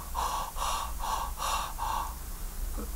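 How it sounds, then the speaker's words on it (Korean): Breathing practice of quick, forceful exhale-and-inhale cycles, about five sharp, rhythmic breath bursts close to the mic, then a brief pause. "한 번 내쉬고 한 번 마시고를 반복하면 됩니다."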